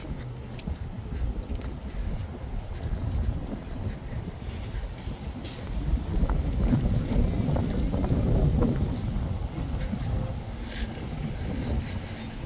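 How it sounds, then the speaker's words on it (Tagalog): Strong cold wind gusts across an outdoor spot in Canada at about plus 8 degrees, a steady loud roar and buffeting on the microphone that swells stronger midway, with no voices. "Lakas pa naman ang hangin."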